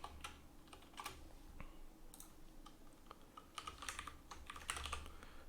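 Quiet, close typing on a computer keyboard, quick bursts of light key clicks with short pauses, alone against a soft background hum.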